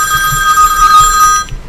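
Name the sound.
telephone ringing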